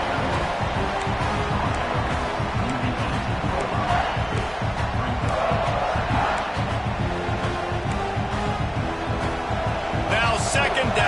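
A stadium crowd in a college football video game murmurs and swells in a steady roar beneath continuous play-by-play commentary, with scattered cheers rising over the dense, far-off noise.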